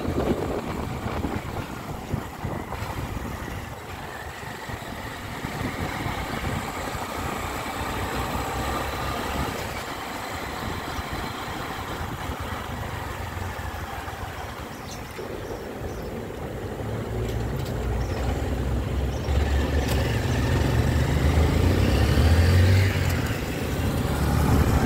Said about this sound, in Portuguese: Lá vem a moto! Mototáxi aí chegando.